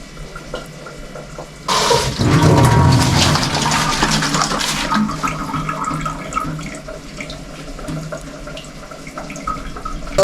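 Water poured into Moroccan couscous, a loud splashing pour that starts abruptly, swells for a few seconds, then settles into a softer running trickle in a kitchen.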